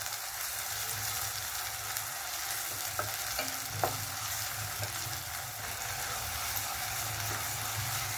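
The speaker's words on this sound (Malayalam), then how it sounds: "ഇനി നമുക്ക് എടുത്ത് വെച്ച ഗ്രേറ്റഡ് ടൊമാറ്റോ ഇട്ട് കൊടുക്കാം." Grated tomato sautés in a pan for a soya chunks curry, a soft, even hiss of frying with a few scattered spoon taps as it is stirred.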